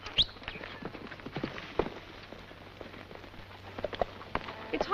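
Horses' hooves clip-clop faintly on a ranch trail as riders set off, with soft scattered hoof strikes over a quiet hiss and no talking.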